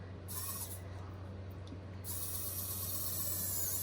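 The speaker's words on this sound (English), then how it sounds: "I'm just going to use my little drill." A small electric drill reopening a resin-filled hole in a wooden earring whirs in a steady high-pitched buzz, briefly pausing then resuming, close by and fairly quiet.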